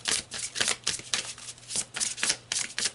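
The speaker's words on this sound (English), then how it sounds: "So let's pull some more cards." Tarot cards are shuffled by hand in a quick, rhythmic series of riffling bursts, close and clear, with no one talking.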